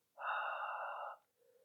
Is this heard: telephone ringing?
no